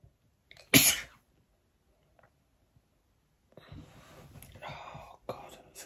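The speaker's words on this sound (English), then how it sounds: "I'm going to sneeze." A single sharp, close sneeze bursts out of near silence, then fades. A few seconds later come soft breathy whispers and sniffing sounds.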